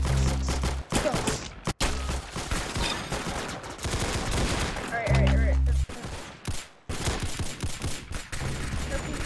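Dense bursts of video game gunfire from an assault rifle crackle almost nonstop, with a few brief pauses and a heavier stretch midway, loud and close throughout.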